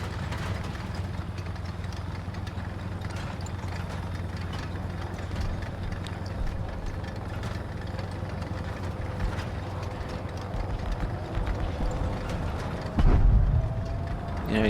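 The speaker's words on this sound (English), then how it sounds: "you'd think with the Cummins diesel engine, this thing would move relatively quick" In a video game, a tracked vehicle's Cummins diesel engine drones steadily as it moves uphill over rocky ground. A continuous low hum runs throughout, with a heavier thump near the end.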